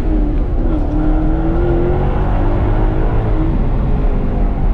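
A Maserati V8 engine growls loudly and steadily after a downshift, a deep rising and falling drone heard from close by with a brief pitch sweep early on.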